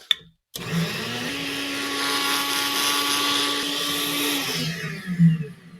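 A blender whirs steadily at high speed for several seconds, blending wine, loud and close, after a brief click and pause at the start.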